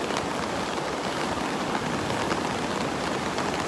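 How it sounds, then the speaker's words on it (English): Dense, steady patter of rain drumming on an umbrella overhead at Delnor-Wiggins beach during the tail end of Tropical Storm Sally, constant and close with no pauses or voices. "You can hear the rain hitting the umbrella."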